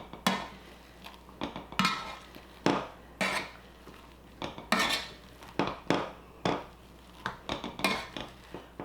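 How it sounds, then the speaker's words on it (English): Boiled potatoes mashed with a potato masher in a pot: a series of dull, close thumps with metallic clinks, repeating roughly every half second to second in an uneven rhythm. "we're just going to use my potato masher and get these mashed."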